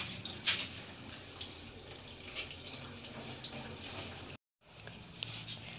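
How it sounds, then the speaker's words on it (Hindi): A semi-automatic washing machine drains its water, a faint steady rushing flow with occasional small splashes and drips, quiet and continuous apart from a brief dropout near the end. "हम दोबारा ये बटन ऑन करके पानी को बाहर निकाल देंगे।"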